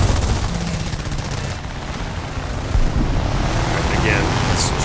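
A Gladiator Mk II fighter in War Thunder air arcade roars under dense, rapid bursts of machine-gun fire, loud and continuous with a brief surge partway through and no talking.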